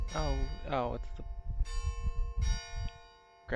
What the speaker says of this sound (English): grandfather clock. I thought that was the doorbell.